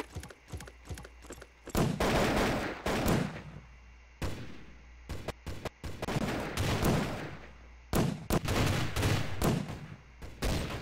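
Gunfire from a mod weapon in Garry's Mod: loud, rapid bursts of shots in quick clusters separated by short pauses, booming and close, with no talking.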